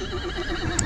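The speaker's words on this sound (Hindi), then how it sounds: "और घोड़े देख लो आप" A horse near Gulmarg, Kashmir whinnies in a close, quavering neigh lasting about a second, its pitch wavering up and down, with a brief sharp high noise near the end.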